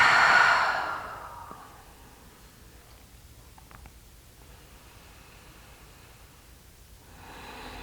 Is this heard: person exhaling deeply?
yes